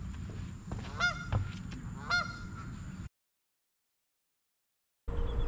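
Several Canada geese honk loudly and repeatedly nearby against outdoor noise by a lake. Then a silent gap, and the outdoor sound returns.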